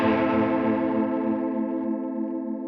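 Sustained electric guitar chord through a Line 6 Helix chorus effect with a triangle waveform, a steady shimmering wobble ringing out alone and slowly fading.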